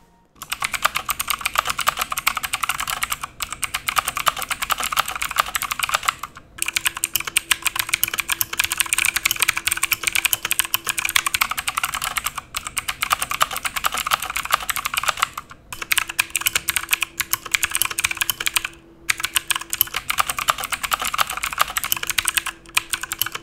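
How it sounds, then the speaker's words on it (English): Rapid, clicky typing on an E-Element Z-88 mechanical keyboard with Ultima Blue switches, close up, in bursts with a few short pauses between runs of keystrokes. "This is what the Ultima Blue switches sound like"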